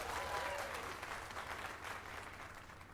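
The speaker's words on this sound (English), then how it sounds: "Let us give a round of applause for young Fulvio" Faint, distant applause from a crowd in the video game Dragon's Dogma 2, a steady patter of clapping that continues throughout without a break.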